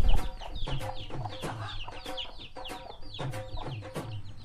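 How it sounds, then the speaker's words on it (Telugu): A rooster clucks repeatedly at close range, a rapid run of throaty, choppy calls that continues without a break, with no talking over it. "ఇది పుంజు"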